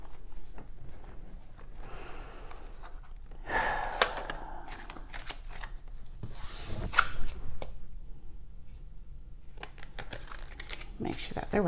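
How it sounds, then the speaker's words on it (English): Cards being riffled and shuffled in several quick bursts of papery flutter and snapping, close by, with soft handling noises between. "We're going to shuffle the cards."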